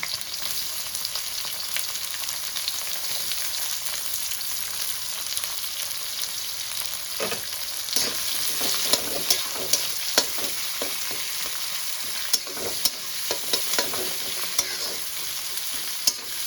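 Chopped onion fries gently in a pan for noodles, a soft continuous sizzle with repeated sharp scraping and tapping of a spatula stirring, no one speaking.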